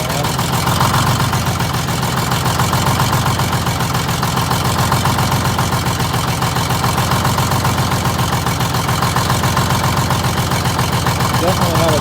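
Detroit Diesel 6-71 two-stroke engine in a GM 4104 bus idling with a miss: a loud, steady mechanical clatter with an uneven, lumpy beat carries throughout, and voices talk faintly over it.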